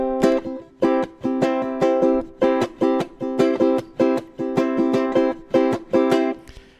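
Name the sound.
ukulele strummed rhythmically with palm-muted strings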